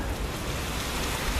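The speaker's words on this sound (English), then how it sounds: "rain that we had in Basingstoke has finally caught up with us" Rain falls steadily in Scotland as a dense, even hiss of drops on surfaces, alone and moderately loud.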